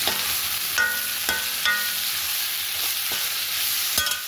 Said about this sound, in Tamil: கருவேப்பிலை போட்டுக்கணும்.